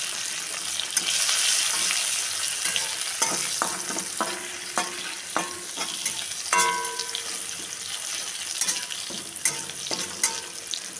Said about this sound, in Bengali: তেল গরম হয়ে গেছে, আর শুকনো লঙ্কাটা আর রসুন থেতো করা দিয়ে দিলাম ফোড়নে।